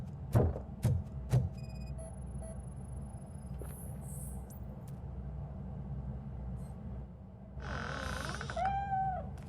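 A cat meows inside the video game RoboCop Rogue City, a few short, faint cries near the end over a low ambient rumble, after some brief thumps and electronic tones earlier.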